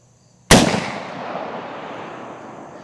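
A single loud, close shot from a Henry lever-action rifle with a 20-inch barrel firing a 325-grain LEVERevolution round: a sharp crack followed by a long, fading rumble that trails off over about two seconds.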